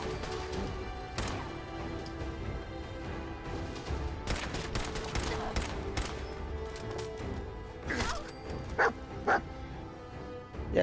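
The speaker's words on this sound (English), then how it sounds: "Yeah, it's all good barking now." A dog barks repeatedly in Fallout 4, sharp yips and woofs scattered among gunfire and combat noise, fairly close and loud, with a few quick bursts near the end.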